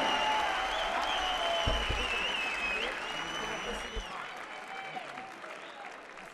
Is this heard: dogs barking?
no